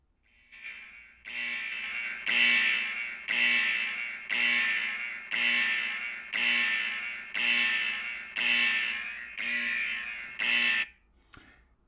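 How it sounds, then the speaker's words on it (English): A loud klaxon alarm blares in nine steady, evenly spaced pulses of about a second each, harsh and buzzing, then cuts off abruptly near the end with no talk over it. "that is the klaxon that alerts us to the fact that there has been exposure"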